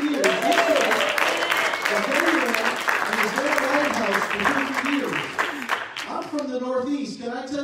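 Church congregation at a Sunday service applauding and cheering in a long, dense, steady wash of clapping, with a voice speaking over it before the noise thins out near the end.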